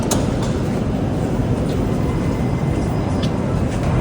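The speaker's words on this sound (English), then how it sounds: "I'm gonna take the metro here." Riding a Moscow metro train, a loud, constant rolling roar and rumble of the moving carriage with steady broadband noise and no pauses.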